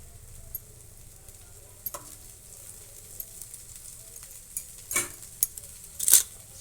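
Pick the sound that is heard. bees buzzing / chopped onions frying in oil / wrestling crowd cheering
chopped onions frying in oil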